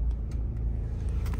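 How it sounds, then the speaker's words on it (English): City traffic rumbling close by, a dense low engine drone from cars with steady loudness and faint higher swishes of passing vehicles, heard without any talking. "The traffic's always crazy."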